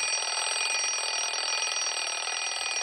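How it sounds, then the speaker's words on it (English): A built-in alarm clock on a portable stereo rings continuously in a loud, steady electronic buzz-ring with no pauses, heard alone without voices. "There's a built-in personal alarm clock."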